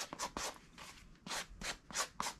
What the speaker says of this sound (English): I am going to take the sanding block